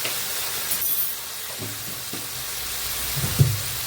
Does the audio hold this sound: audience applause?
no